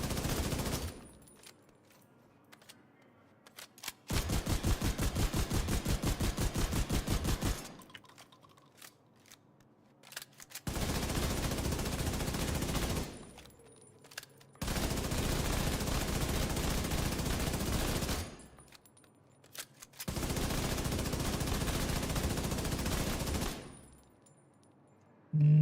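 Gunfire in a video game while going for headshots: four long bursts of rapid automatic fire, each lasting a few seconds, separated by short quiet gaps, loud and close.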